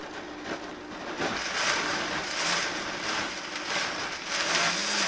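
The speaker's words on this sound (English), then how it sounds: "we've got it in the blender, and we're going to start at a very low speed, like that." Green vegetable soup is pureed in a kitchen blender running at low speed, giving a steady, close whirring and churning drone that holds evenly for the whole stretch.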